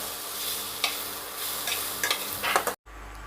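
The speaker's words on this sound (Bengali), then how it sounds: "আমি মুগ ডালটাকে পুরো নাড়তে থাকবো, নাহলে নিচ থেকে লেগে যাবে" Mung dal dry roasting in a pan, stirred continuously: a dry rustling hiss with scrapes and light taps of the spoon, close up with no voices, ending in a brief cut.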